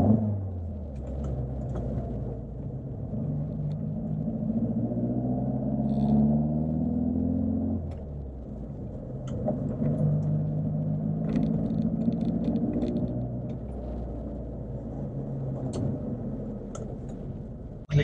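A classic Alfa Romeo Giulia Super 1600 drives along smoothly, its engine a steady mid-low drone with gentle rises and falls in pitch over continuous road rumble.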